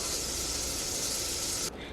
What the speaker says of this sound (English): We've got a nice sizzle going.